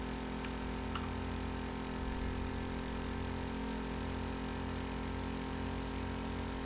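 Vehicle engine idling at low RPM in Stormworks: Build and Rescue, a steady, even drone with a deep low hum and faint rattle running unbroken throughout, no talking.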